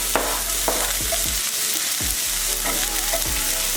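Chopped onion sautés in a hot pan with a steady, dense sizzle and crackle, close up, with occasional scraping and stirring sounds over the constant frying hiss and no talking.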